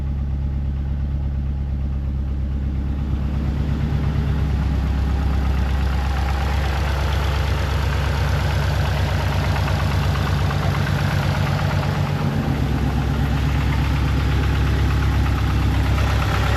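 A 2005 Subaru WRX STI engine idles while warming up after a radiator install, a loud, steady, low rumbling drone with an even pulse throughout and no speech.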